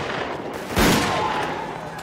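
Gunfire from an FN FAL rifle in a movie combat scene: one loud, sharp shot cracks over a noisy battle background, its boom lingering briefly before fading back into the din.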